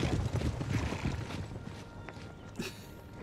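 Cavalry horses in Empire Total War clop and shuffle across the battlefield, a busy patter of hooves with faint mechanical creaks and a brief whinny-like burst near the end.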